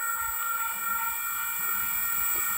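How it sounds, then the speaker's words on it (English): A Sydney-to-Gosford service train pulls into Wondabyne station in New South Wales with a steady rumble and a thin, high whine, sounding close and even throughout. "Train now coming into platform number two is a Gosford service."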